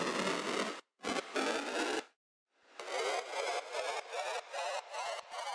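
Vocal sample in a hardstyle track run through a Redux bit-crushing plugin, gritty and buzzy, in loud chopped bursts with abrupt cut-offs and a short silent gap before a longer pulsing stretch.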